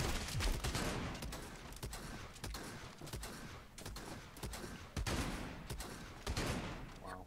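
Rapid gunfire in the Bravo Team VR shooter, a dense run of loud repeated shots in bursts with brief pauses, continuing steadily throughout.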